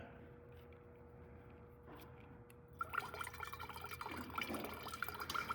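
Fuel drains from the carburetor drain of a Generac GP6500 or GP7500 generator as a faint, close trickle that starts partway through over a low steady hum.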